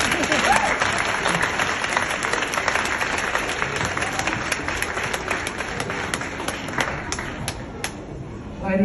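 An audience at a school event breaks into sustained, dense applause, loud and close with many overlapping claps, tapering slightly toward the end.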